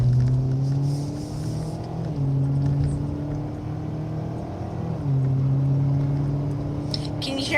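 A small Kia car's engine drones and accelerates through gears, heard from inside with steady rising pitch broken by two shift drops, moderately loud, with a faint clatter near the end and no talk.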